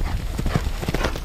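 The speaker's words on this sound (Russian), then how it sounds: "Очень сильная, большая лошадь, как говорится, с душой." Horse hooves clip-clop on an eventing cross-country course as a strong, large horse moves along, giving a steady, close rhythm of thudding beats with a faint voice underneath.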